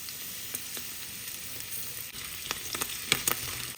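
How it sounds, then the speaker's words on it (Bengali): Food fries in a small amount of hot oil, a soft continuous sizzle with a few sharper pops and crackles toward the end, fairly quiet and close. "আমি অল্প তেলে ভাজছি"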